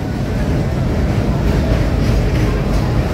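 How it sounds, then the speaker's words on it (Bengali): Train pulling into a station on the Mohammad Nagar to Mongla line, a loud, steady low rumble and roar that fills the whole stretch without speech. "অবশেষে ট্রেনটা চলে আসলো।"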